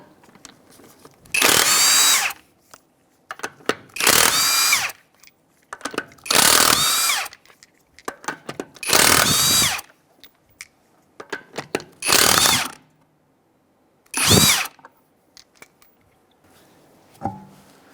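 A power tool loosening the 21 mm front wheel lug nuts on a 2007 Mazda CX-9, six loud close bursts of impact whirring separated by short pauses.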